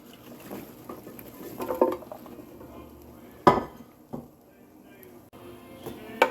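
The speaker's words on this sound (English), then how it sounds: "we're going to stir in our veggies" Vegetables are stirred into browned beef bones in a metal roasting pan for bone broth, giving sporadic clanks and scrapes of a utensil against the pan, with a soft simmer and a voice talking in between.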